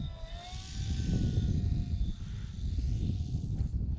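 A Super Decathlon radio-controlled model airplane comes in to land with a steady buzzing motor whine and a rushing low rumble, the engine pitch easing slightly as it settles.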